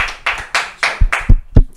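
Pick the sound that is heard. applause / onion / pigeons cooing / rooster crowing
applause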